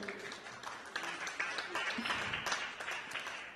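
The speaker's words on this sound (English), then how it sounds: "A round of applause, David." Moderate audience applause at a conference talk, with individual claps audible and some voices and movement mixed in throughout.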